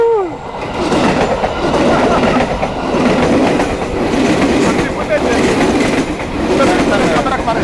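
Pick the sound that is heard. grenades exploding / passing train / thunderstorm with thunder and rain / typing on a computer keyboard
passing train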